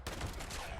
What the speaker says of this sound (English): I should just be able to use my shotgun.